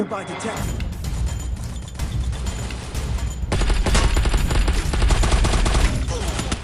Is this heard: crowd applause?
no